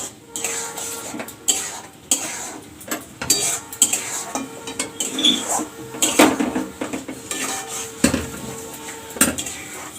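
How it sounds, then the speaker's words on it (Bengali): Meat cooking with masala is stirred in a pan, metal spoon scraping and clinking against the pan in irregular bursts over a soft sizzle, with no voices. "এবার ভালো করে মাংসটা এই মশলাটা কষিয়ে দেবো"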